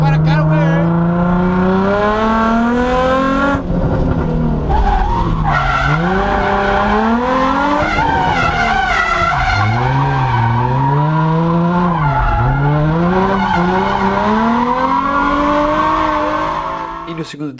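A car drifting through a corner on a test course, tires squealing loudly in long wavering howls that rise and fall continuously for most of the clip, with engine noise underneath and no talking.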